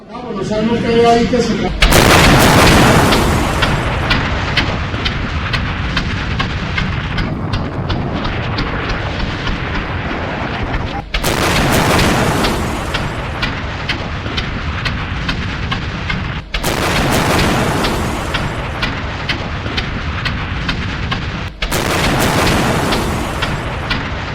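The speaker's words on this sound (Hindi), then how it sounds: "अमेरिका के इस अटैक के बाद जोरदार धमाके होते हैं वेनेजुएला में और वेनेजुएला दहल उठता है।" Explosions from a US air strike bombing in Venezuela: four heavy, loud booms spaced several seconds apart, each followed by a sustained rumbling roar that fills the gaps between blasts.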